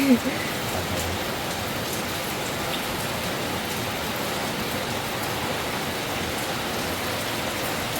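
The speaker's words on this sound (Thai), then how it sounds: "ฝนตกดี" Rain falls steadily in a forest, a dense, even hiss of drops on leaves and ground that carries on unbroken with no clear voices.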